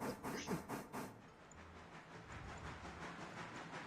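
A locomotive running in the Railroader video game, with a rhythmic chuffing hiss at first that settles into a steady rumbling, clattering rail noise with no talking.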